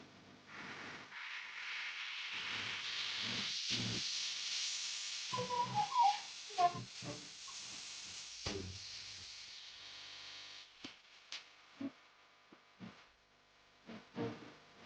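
Water boiling in a pot while semolina pitha cooks, a broad steady steam hiss for the first half, then quieter with scattered bubbling pops and short bursts.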